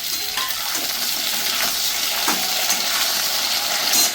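Fried potatoes with a tomato just added, sizzling in a pan for a vegetarian curry, a loud close hiss with a few stirring scrapes and clinks.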